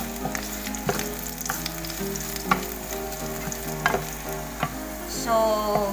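Ingredients sizzle and fry steadily in a frying pan, toasted to a light brown, with the metallic clatter of stirring and occasional sharp clinks of utensil against pan, close and continuous throughout.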